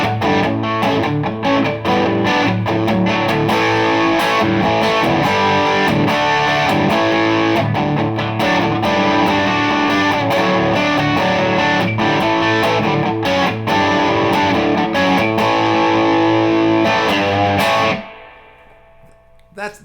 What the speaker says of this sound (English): I don't like too much distortion on the guitar.